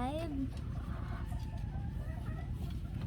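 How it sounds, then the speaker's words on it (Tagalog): A hen with eggs in her nest clucks in short repeated calls close by, with a rising squawk at the start over steady low background noise. "Ayan nga yung aking alagang inahin."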